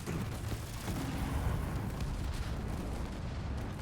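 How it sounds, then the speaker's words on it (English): Giant cannons firing in Halo Wars 2, a constant rumbling barrage of heavy booms blending into a thick low roar, moderately distant. "Just shoot them from afar with giant cannons."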